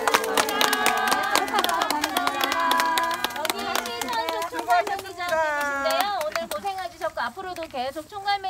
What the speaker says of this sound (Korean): 마지막으로 또 저희 이끌어 주신 윤여경 대표님한테 큰 박수 한번 부탁드리겠습니다